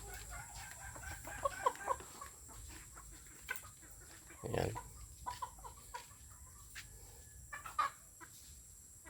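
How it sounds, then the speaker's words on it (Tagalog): Roosters at a backyard Filipino flock cluck in short scattered bursts, with one louder call near the middle, over a steady hum and brief speech. "Tandang."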